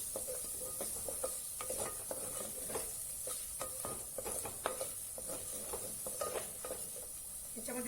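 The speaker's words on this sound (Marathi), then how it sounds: "कांदा भाजलेला आहे खोबरं भाजलेलं आहे मीडियम गॅसवर छान परतून घ्यायचं ना" Onion and coconut, both already roasted, being stir-fried in a pan over a medium gas flame, with steady scraping strokes and a soft continuous sizzle throughout.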